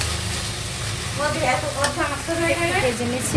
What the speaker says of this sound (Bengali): এখানে পা কলমির শাক ভাজা হচ্ছে